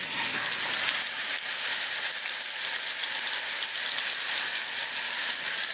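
Pork chops hitting a hot pan and sizzling loudly, a dense, continuous hiss that stays close and steady throughout with no voices.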